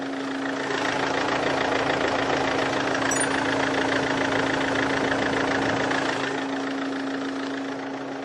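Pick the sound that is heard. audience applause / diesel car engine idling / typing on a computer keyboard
diesel car engine idling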